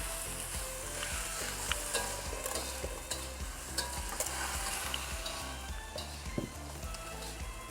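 Pork belly frying and sizzling in a pan while being stirred, a steady loud crackle with repeated scraping strokes throughout.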